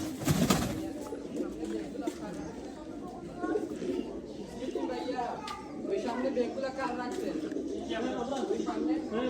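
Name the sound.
pigeons cooing at bird park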